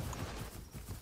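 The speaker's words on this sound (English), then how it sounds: "I hear so many footsteps." Footsteps of dinosaurs in the Path of Titans game, a faint series of soft, heavy thuds in an uneven rhythm over a dull background rumble.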